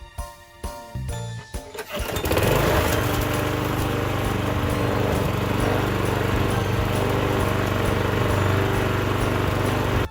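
A lawn mower engine catches after a sputtering start and then runs steadily at a loud, constant drone close by, with no talking over it.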